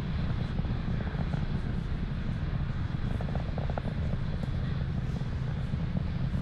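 Rumbling roar of a SpaceX Falcon 9 rocket ascending after launch and going supersonic, a steady, distant broadband thunder that holds at an even level throughout with no voices.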